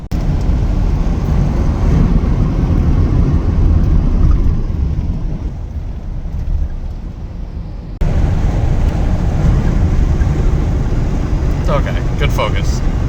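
A pickup truck, the donor for a Cummins-swap build, cruising along a highway in New York, with a steady loud road and engine roar inside the cab, a brief dip midway, and someone talking over it.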